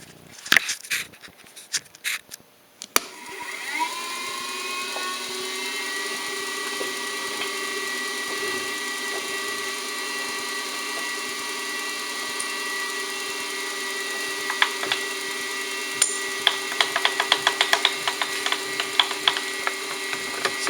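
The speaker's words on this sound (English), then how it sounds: "There's our end mill coming into view." An end mill cuts a 3D printed apex seal for a rotary engine in a single light pass, a sustained steady whine from the spinning machine with scattered sharp ticking and chatter toward the end.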